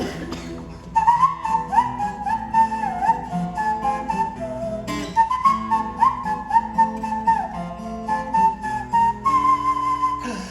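A person whistling an instrumental verse, a clear, sustained melodic line of held and gliding notes over a soft backing accompaniment, loud and close throughout.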